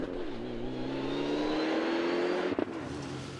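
A Mitsubishi Evo four-wheel-drive turbo rally car on an open special stage at the Chris Kelly Memorial Rally revs hard with rising engine pitch as it accelerates, loud and near, then a quick gearshift blip.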